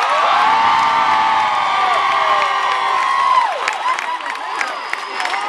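Audience at a mariachi concert shouting and cheering loudly, a dense roar of voices and whoops that keeps going throughout, with instruments sustaining tones underneath.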